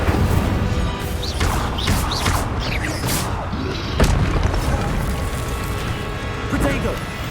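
Incendio fire spell cast during combat in the video game Hogwarts Legacy, dense booming bursts and whooshes layered over continuous game noise, loud, with a voice talking throughout.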